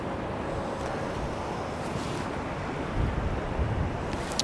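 Steady wind buffets the microphone at the seaside while sea fishing from the spiles at Seaham, a broad continuous roar with surf-like wash and a slight gust swell near the end.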